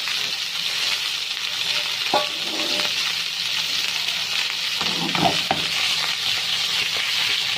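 Kofta sizzling steadily in hot oil as it is turned, a constant frying hiss with a few soft clinks and scrapes of the utensil midway.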